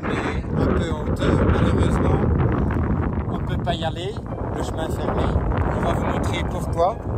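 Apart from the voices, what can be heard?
strong wind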